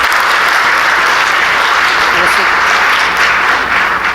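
An audience applauds to welcome panelists onto a stage at a talk event, a steady burst of clapping from many hands that continues throughout.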